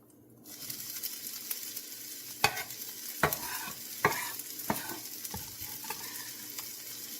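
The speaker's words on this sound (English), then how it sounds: "Just want to mix this up, make sure it's all stirred up, mixed up in there well enough." Chuck beef steak, cut thin, being stirred in a pan, giving steady close sizzling and frying with sharp scrapes and clacks of a utensil against the pan at irregular intervals. No one talks.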